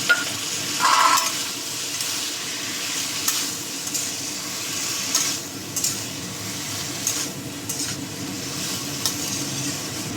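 Ground white and black mustard paste and water sizzle in a frying pan while cooking a stalk chochchori, giving a steady hiss with occasional stirring scrapes and no talk.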